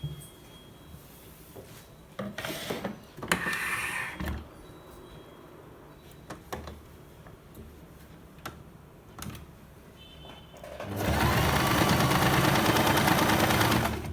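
A sewing machine stitches both sides of a folded cloth pillow cover. Scattered clicks and short bursts come first, then the machine runs as a loud, steady, close rattle for the last few seconds.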